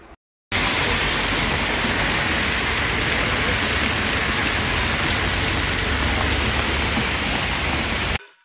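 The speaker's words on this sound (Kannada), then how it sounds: "ಅವ್ರ ಮನೆ ಹತ್ರ ಜೋರು ಮಳೆ ಬರ್ತಾ ಇರೋದು ಫ್ರೆಂಡ್ಸ್ ಇದು" Heavy rain pours down near a house in Dawadi, Bengaluru, a dense, loud and unbroken roar of falling water that starts abruptly after a short quiet gap and cuts off sharply at the end.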